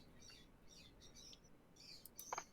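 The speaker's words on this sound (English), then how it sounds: "I'm hearing birds." Birds chirping faintly in a quiet ambient scene, a few short scattered tweets over a low background hiss with a slightly louder burst near the end.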